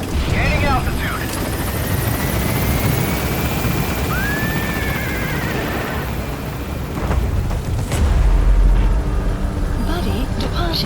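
P-Quad helicopter from Metal Gear Solid 5: The Phantom Pain climbing out of a landing zone, a steady loud rotor drone with game noise layered over it and a heavier rumble near the end, with radio chatter speaking over the top.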